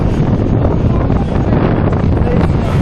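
Strong storm wind at a ferry crossing roars steadily against the microphone, a loud continuous buffeting rumble with no breaks, and no clear talk.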